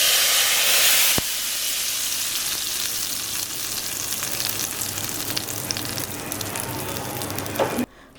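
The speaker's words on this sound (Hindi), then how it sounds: "हल्का सा फ्राई होने लगेगा फिर हम इसके अंदर ज़ीरा ऐड करेंगे" Continuous sizzling and crackling of cumin seeds frying in hot oil, close and steady, fading out abruptly at the end.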